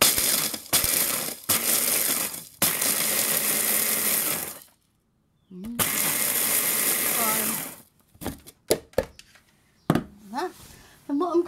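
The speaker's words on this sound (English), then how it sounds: "I'm just going to grind up a few more biscuits here" Biscuits are ground up in a grinder for cookie butter: loud, steady whirring and crushing bursts run for a few seconds at a time, stop, start again, then trail off into clattering knocks.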